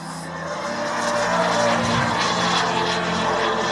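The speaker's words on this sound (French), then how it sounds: "pleine vitesse, pour la démonstration du L-39 Albatros" A quarter-scale model L-39 Albatros jet sweeps past at full speed during an air show demonstration in Dinan, giving a loud, steady turbine roar that holds for several seconds with no talking.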